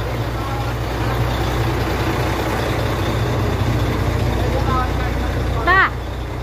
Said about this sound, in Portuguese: Acho que ele vai afastar o caminhão.